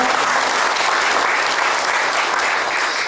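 A seated crowd at a national men's mission association prayer breakfast in a Presbyterian church applauds loudly and continuously, a thick, even wash of many hands clapping at once.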